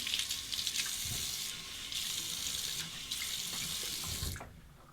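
A bathroom tap runs to rinse a Razorine Flatboy safety razor, a close steady hiss of water splashing into a sink, briefly interrupted as the blade passes under the stream, before shutting off.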